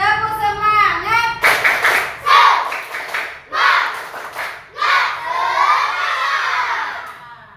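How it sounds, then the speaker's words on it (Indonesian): A group of children in a classroom perform a rhythmic spirit-clap cheer, shouting chant lines in bursts punctuated by sharp unison claps, loud and close, with a teacher's voice leading at the start. "biar tambah semangat kita tepuk semangat dulu ya"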